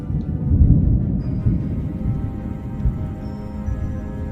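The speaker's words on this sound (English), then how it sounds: "with a ferocious thunderstorm raging in the skies" Deep, rolling thunder from a ferocious storm over a hilltop circle of standing stones, a loud sustained low rumble that swells early and then churns on steadily with no voices.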